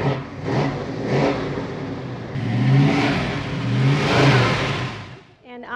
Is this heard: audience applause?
no